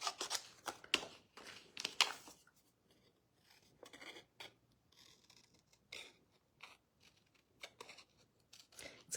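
Scissors snipping through a paper card during crafting, a series of short, crisp cuts in irregular bursts with brief pauses, close and fairly quiet.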